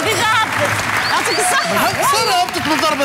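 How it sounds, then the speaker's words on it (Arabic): Audience applause for a game show contestant: dense clapping runs throughout while people talk over it, with voices rising and falling above the noise. "صفقوا على علي خاطر لعب بجاي وحده من الضربة الثانية ديجا"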